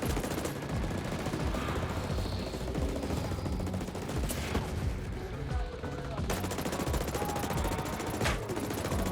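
Rapid bursts of machine gun fire and gunshots in a video game raid battle against the Titan Cerberus (Zeta) on Golem Island, dense and continuous throughout, loud and close with layered explosive effects.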